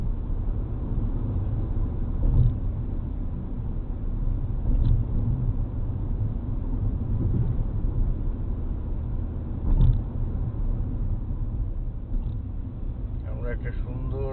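A car travels along a scenic road toward Lucknow, a steady low engine and tyre rumble continuing throughout with a few faint creaks and knocks, close and even in level.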